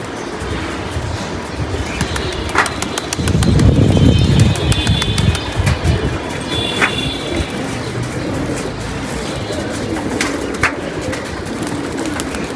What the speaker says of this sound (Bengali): আর উপরে দেখা যায় কবুতর নামতেছে আরও ভেঙে ভেঙে